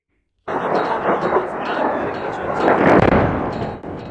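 Airstrikes hit Sanaa International Airport: after a brief silence, a heavy explosive boom erupts and rolls into a loud, sustained, rumbling roar that swells and then begins to fade.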